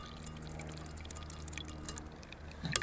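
Blended juice poured through a strainer after blending in an Omega BL630 commercial blender, a faint trickle and drip of liquid, quiet and close.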